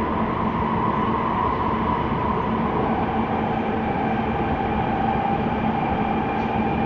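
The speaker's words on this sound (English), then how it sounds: "I'm on the BART train. It's a little noisy" Inside a moving BART train near Oakland, a loud, steady rumble and roar of wheels and car noise fills the cabin without pause.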